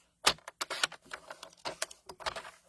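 Patterned craft paper being cut down on a paper trimmer, heard as a close, quiet series of irregular clicks and scraping strokes with a few sharper snaps.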